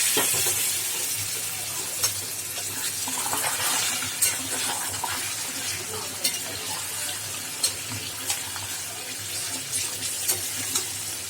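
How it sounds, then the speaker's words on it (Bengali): Hot water poured into a pan of chicken curry, a steady splashing pour with stirring and a soft sizzle underneath, close and moderately loud, with a few sharp clinks along the way. "অল্প একটু গরম জল অ্যাড করলাম"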